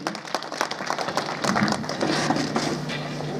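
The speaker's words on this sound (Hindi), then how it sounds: "एक बार जोरदार तालियां हमारे सभी विभागीय अधिकारियों के लिए" Crowd applause for officials at a village government outreach event in Chamba, Himachal, a dense patter of clapping that swells midway and carries on steadily to the end.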